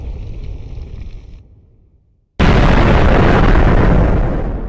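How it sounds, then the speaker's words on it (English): Bombs explode in a Minecraft role-play skit: a loud rumbling blast fades to near silence, then a sudden, very loud, sustained booming explosion fills the rest. "Bombs after bombs devastated any chances of survival."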